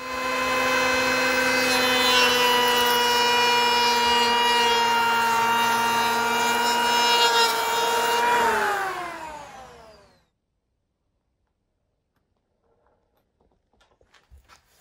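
An electric hand planer shaping the edge of a piece of wood gives a loud, steady, high motor whine for about ten seconds, then winds down into near silence with a few faint handling knocks.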